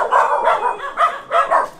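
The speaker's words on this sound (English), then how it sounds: "we're disturbing your dogs" Neighbors' dogs bark in a quick series of sharp, close, fairly loud yips and barks along a mountain trail, about five bursts in under two seconds with no talking.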